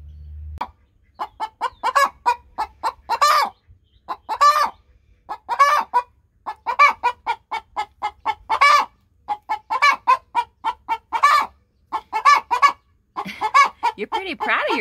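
Backyard chickens in a garden chicken run cluck and cackle repeatedly, close and loud, in quick overlapping bursts with brief pauses, and no voices are heard.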